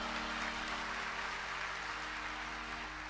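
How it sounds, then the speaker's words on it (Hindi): An audience claps steadily throughout a Hindu religious discourse on the Sundarkand, a dense, continuous wash of applause with a low hum underneath and no clear talk over it. "जब 50 जोजन के नाम पर ताली बजा"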